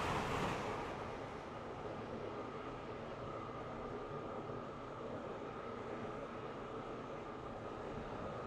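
Continuous rumbling of a train rolling over rails in the Roblox game Stepford County Railway, a steady interior drone on a Stepford Connect service, even and moderately loud with no talking.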